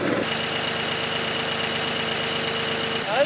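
An autonomous farm tractor's engine runs at a steady idle, a continuous throbbing drone with an even rhythmic knock and a faint whine, close and constant with no voices.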